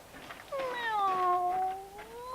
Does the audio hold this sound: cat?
yes